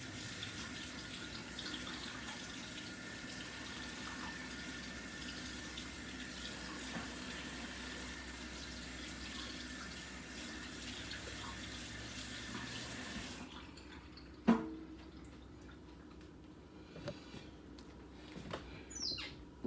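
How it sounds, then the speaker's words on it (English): A kitchen tap runs in a continuous steady stream while hands are washed under it for about thirteen seconds, then shuts off, leaving a quiet room with a clunk and faint bird chirps. "Just wash my hands really quick."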